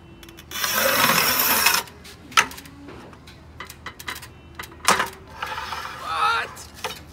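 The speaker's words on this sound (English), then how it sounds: "can you cut that porcelain tile?" A 48-inch ThinLine tile cutter works a porcelain tile about 2.5 inches wide: a loud scoring rasp for about a second, then sharp clicks, a snap and scattered mechanical knocks, close and alone.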